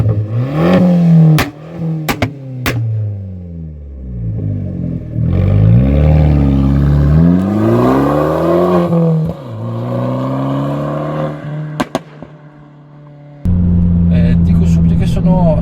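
Abarth 595 exhaust barking through gear changes, with revs rising and falling in loud, close engine sweeps and sharp pops between shifts, a rumbling idle-like drone at the end.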